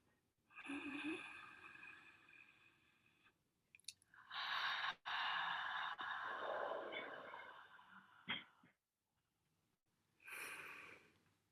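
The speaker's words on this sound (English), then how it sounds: "take a deep breath in through our nostrils and blow out of our mouths, making just a sound" A group of people exhale through their mouths after a deep breath in through the nose during a fireside chat, making several loud, breathy whooshes in overlapping waves with brief pauses between them.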